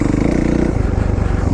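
A 2014 Kawasaki KX450F dirt bike engine runs close by, loud and throbbing, with a pitch change partway through as the throttle eases, in an off-road staging area.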